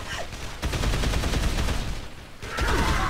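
Gunfire rattles in the Dead Island zombie game as dense, loud bursts of automatic shooting, with a short gap of near quiet before another burst starts; no voices stand out.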